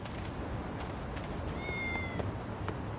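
A cat meows twice in the video game Lost Judgment, short rising cries over a steady background hum of game ambience.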